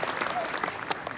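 A seated audience at a film Q&A breaks into dense, steady applause, many hands clapping at once, fairly close and sustained through the whole moment.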